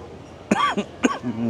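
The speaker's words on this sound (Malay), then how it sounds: "Batuk dah." Two quick coughs, throaty and close, sounding aboard an airplane before takeoff, with faint cabin hum beneath.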